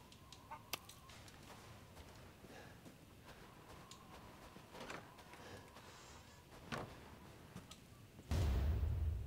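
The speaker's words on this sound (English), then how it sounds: "Chicken, little rooster." A flock of chickens and a rooster in Resident Evil Village clucks and calls intermittently at moderate level, ending in a sudden loud low thump or rumble.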